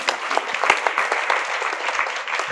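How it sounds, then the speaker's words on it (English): A church congregation claps together in a dense, steady burst of applause during a service, moderately loud and close, with no talking over it. "Let's clap for Jesus Christ."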